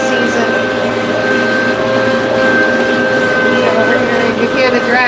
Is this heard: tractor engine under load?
yes